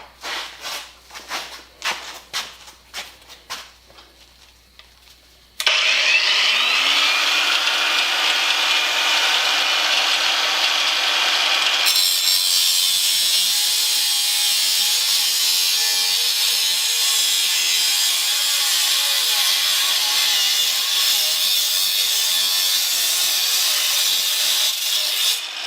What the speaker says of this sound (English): So I'm quite pleased with this grinder.